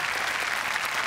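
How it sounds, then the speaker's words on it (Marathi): Dense, steady applause from a studio audience at a Marathi comedy show, a continuous wash of clapping with no voices over it. "जोरदार टाळ्या झाल्या पाहिजेत"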